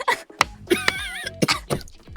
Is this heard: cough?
yes